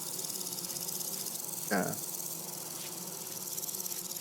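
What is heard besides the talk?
bees buzzing near a beehive in video game Vintage Story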